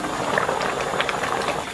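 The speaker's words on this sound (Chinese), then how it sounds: "盖盖小火给它炖上40分钟。" Pork belly stew with soy sauce, star anise and cinnamon bubbles in a covered pot over low heat, a dense close patter of small bursting bubbles, steady and unbroken.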